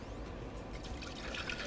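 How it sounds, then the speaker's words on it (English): Brine for a pork butt poured into a measuring cup, a steady close liquid trickle and splash running throughout without talk. "The brine that I prepared for my pork butt, I'm just going to pour into a measuring cup"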